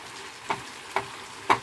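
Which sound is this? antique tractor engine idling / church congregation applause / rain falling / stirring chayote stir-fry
stirring chayote stir-fry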